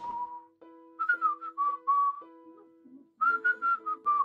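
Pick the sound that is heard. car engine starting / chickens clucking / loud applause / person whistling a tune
person whistling a tune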